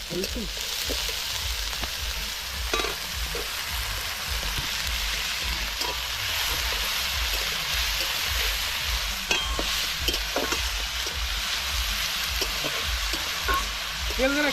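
Duck meat frying in oil in a pan, a dense continuous sizzle with crackles and stirring scrapes, close up, while people talk in the background throughout.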